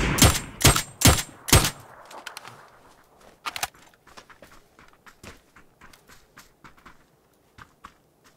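Gunfire in a battle royale video game: four loud, sharp shots in quick succession, then a softer pair and a long run of faint, distant pops scattered irregularly.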